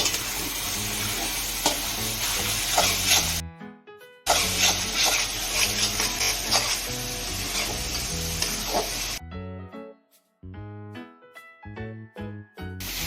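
Onions and capsicum with ginger-chili paste fry in a pan for pav bhaji, a loud, continuous close sizzle with stirring, broken by a short pause and then giving way to music.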